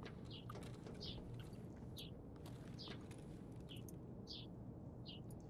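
Short high bird chirps in the video game Escape from Tarkov repeat every second or so, faint against a steady low rumbling background.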